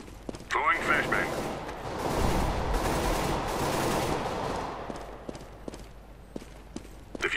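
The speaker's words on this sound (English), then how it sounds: "Throwing flashbang." A flashbang grenade thrown in CS:GO on de_dust2, heard as a sharp pop followed by a long, dense burst of noise that fades over several seconds, with scattered clicks and footstep-like taps afterward.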